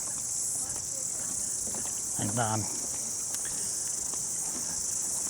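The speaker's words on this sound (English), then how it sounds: "You can hear cicadas." Cicadas in the Kauri Glen Reserve buzz in a continuous high-pitched drone that fills the background of a sunny bush walkway, with a brief voice and faint footsteps passing underneath.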